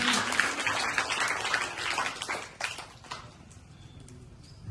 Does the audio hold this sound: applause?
yes